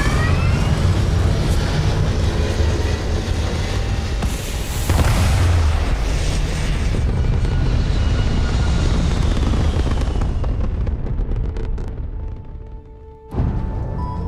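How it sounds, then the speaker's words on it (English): A spaceship lifts off in the game Starfield with a loud, sustained roaring rumble and a booming swell midway, then the roar thins and fades away near the end, leaving brief quiet before a final burst. "Prepare for liftoff."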